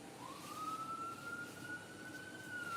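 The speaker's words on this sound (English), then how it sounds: "and I hear the sirens right now." A siren, likely from a fire truck, wails in the distance, one long sustained tone rising slightly, over a low rumble of background noise.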